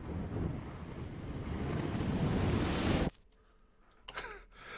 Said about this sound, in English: Does the thunder sound like backwards?